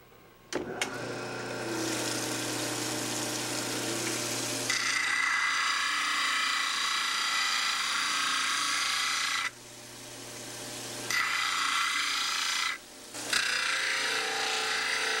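A dental model trimmer grinding plaster dental models, a loud steady whir with broad gritty scraping that drops briefly twice as the model is lifted from the wheel, with no talking.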